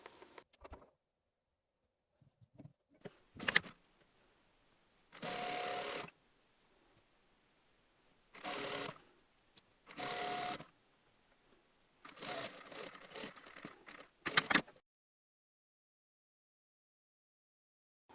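A sewing machine stitches the overlapped front bodice layers of a simple one-piece dress, running in several separate bursts of steady mechanical whirring with quiet pauses between them.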